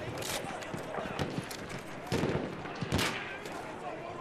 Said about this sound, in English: you can only fire three bullets at once